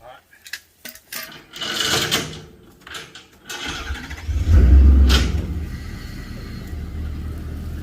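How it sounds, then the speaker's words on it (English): Vehicle engine starting and revving while pulling a 1962 Ford F100 pickup out of the woods, with knocks and clanks first, then a loud low rumble that swells and settles into a steady drone, with people talking. "So we gotta pull the truck over and away to be able to put the tire on to roll it out of the woods."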